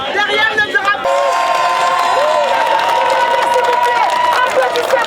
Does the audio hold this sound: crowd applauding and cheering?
yes